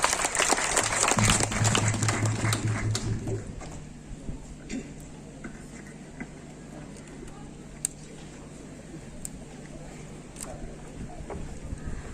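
Audience at a certificate handover ceremony in Jerebuhu district gives a loud, dense burst of clapping for about three seconds, which then thins out and fades under a low steady hum and scattered faint noises.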